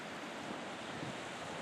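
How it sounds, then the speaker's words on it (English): Rough floodwater of the Arkansas River churning below a dam releasing about 200,000 cubic feet per second, a steady loud broadband roar like heavy surf, with some wind noise and no speech. "The water is very rough."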